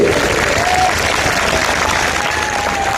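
Steady, dense applause from a large audience at a Christian blessing festival gathering in Ranchi, loud and continuous throughout with a faint crowd murmur beneath.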